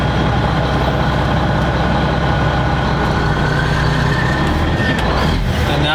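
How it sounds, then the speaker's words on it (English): A truck engine on a CDL-B inspection vehicle revs loudly and steadily while pulling against its engaged parking brake, a close, constant heavy drone with a slight rise in pitch near the end. "I'm going to tug on it to show that my parking brake is properly working"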